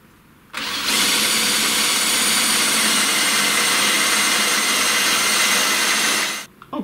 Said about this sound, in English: this is an 8 millimeter drill, which is a clearance hole